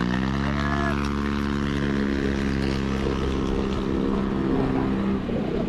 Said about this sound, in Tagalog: umu-overtake na yung naka-scooter na gigil sa silinyador